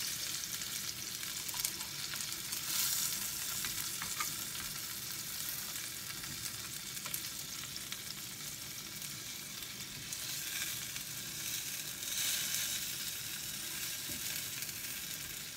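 Pork filet mignon sears in a hot pan after being turned, giving a loud, continuous crackling sizzle that swells and eases slightly, with no talk.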